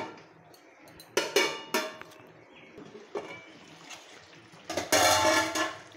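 A metal lid clanks back onto a pot of cooking meat with a few sharp clatters and scrapes, close and fairly loud, ending in a longer rattling clang as it settles; no talking.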